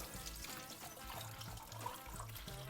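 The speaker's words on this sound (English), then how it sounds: "So just a little bit of cold water," Cold water from a tap runs steadily over rice being rinsed in a pan, a continuous trickling and splashing wash with no talk.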